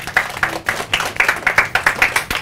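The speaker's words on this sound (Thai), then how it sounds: "โอ้เยี่ยมมากเลยปรบมือครับ" Primary students in a Thai classroom clap together, a loud, close series of about a dozen quick rhythmic claps in unison, with little talk.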